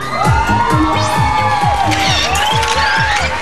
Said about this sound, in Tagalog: Alamin natin ang sigaw ng angkan from Mexico, Pampanga.